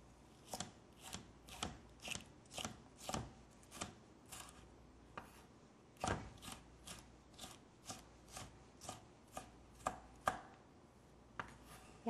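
A knife chops colored bell peppers on a cutting board in a steady run of crisp, close taps, roughly two per second, with no talking.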